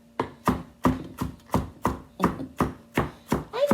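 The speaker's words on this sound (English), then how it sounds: "Celery is almost all cut up." A knife chops celery on a cutting board in eleven sharp, evenly spaced strikes, close and crisp, with no talking over them.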